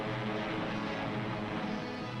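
A 1934 B-10 all-metal bomber drones steadily with a dense, even propeller-engine roar that holds at a constant level throughout, with no voices.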